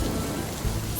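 Cartoon rain effect as a small cloud lets a few drops fall, heard as a steady, soft hiss of rainfall with a faint low rumble beneath, continuous and close for the whole second.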